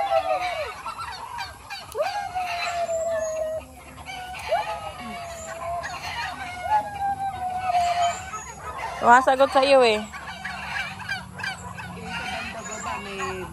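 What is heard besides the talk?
turkey gobbling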